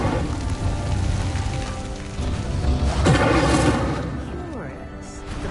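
The Incendio fire spell is cast in a Hogwarts video game, a whooshing, crackling burst of flame swelling around the middle over a busy, rumbling game soundscape.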